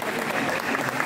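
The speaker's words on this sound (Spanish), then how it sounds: "Ya tenemos el aplauso de la tribuna" Spectators in the stands at a girls' under-16 volleyball match clap in a steady, dense burst of applause, with a commentator talking over it throughout.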